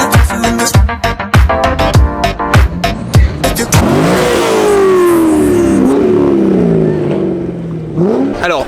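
A light Caterham Super 7 engine blips its throttle in a quick series of sharp revs, then holds a long loud rising-and-falling rev with gear changes, finishing with a couple more blips, close and raw with no talk.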